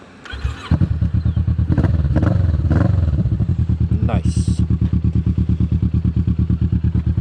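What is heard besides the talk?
motorcycle engine with aftermarket exhaust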